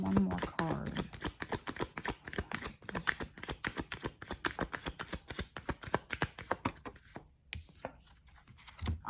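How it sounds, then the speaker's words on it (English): Tarot cards shuffled and pulled from a deck, a quick, steady run of soft riffling clicks and flicks close up, briefly pausing near the end, with a voice talking quietly at the start. "So I just want to pull another card for more information."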